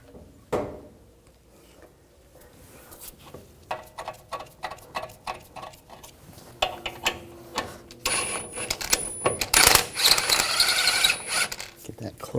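A ratchet wrench clicks in quick bursts while snugging a shock bolt on the rear suspension of a 2007-2013 BMW X5, close and metallic. A louder mechanical clatter follows near the end.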